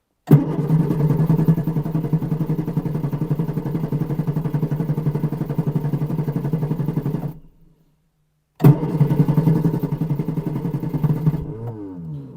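A small engine cranks and fires with ignition on and choke out, running loud and steady for about seven seconds, cutting out, then restarting and running again.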